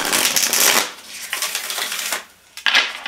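Thick tarot deck of heavy quality cardstock shuffled by hand, several close bursts of riffling card flutter separated by short pauses, no talk.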